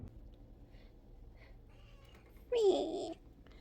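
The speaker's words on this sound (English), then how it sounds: "Good morning from the kitty." A house cat gives one short, clear meow indoors in the early morning, standing out briefly above a quiet room background.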